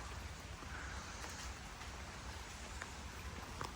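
Rain falls at a house under construction, a soft, continuous hiss of drops with a few brighter patters, steady throughout and fairly faint, with no voices.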